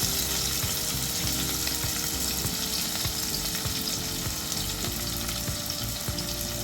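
Mustard seeds, cumin and curry leaves sizzle in hot oil for a masoor dal tempering, a continuous, even frying hiss and crackle with no talking.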